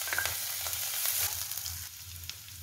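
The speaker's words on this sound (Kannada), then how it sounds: "ಎಣ್ಣೆ ಬಿಸಿಯಾದಾಗೆ ಜೀರಿಗೆ ಹಾಕಿ ಜೀರಿಗೆ ಸಿಡಿದು ಬಂದ ಹಾಗೆ" Cumin seeds splutter and crackle steadily in hot oil, a close, continuous sizzle scattered with small sharp pops and no voices.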